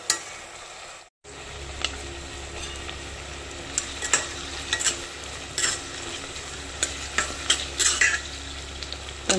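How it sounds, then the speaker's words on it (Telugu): Onions sautéing on medium heat for a vegetable curry: a steady crackling sizzle with frequent stirring scrapes and clinks of a spoon on the pan, after a brief silent gap near the start, no talk. "ఒక 5 మినిట్స్ మీడియంలో పెట్టుకొని ఆగనిచ్చుకోవాలి ఉల్లిపాయలన్నీ."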